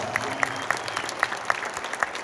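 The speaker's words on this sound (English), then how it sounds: "Let's give all these guys a big round of applause" Applause from a crowd of guests at a lamb show, a steady patter of many hands clapping throughout, with a few sharper individual claps standing out.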